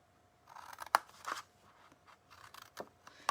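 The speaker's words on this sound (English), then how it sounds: "I'm just cutting these to the score line." Paper tabs snipped with scissors up to a score line while crafting a Halloween test tube holder: several crisp, close cuts in irregular bursts, with quiet gaps between, and no talking.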